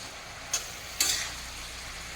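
Cabbage and fish head curry is stirred in a pan over a low flame, with three short scraping turns over a soft, steady sizzle.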